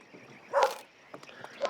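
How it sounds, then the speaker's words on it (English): In The Oregon Trail video game, a hound barks goodbye as the party leaves. Two or three soft, fairly distant barks come over a faint steady background. "The dog barks as the party leaves, seemingly saying goodbye."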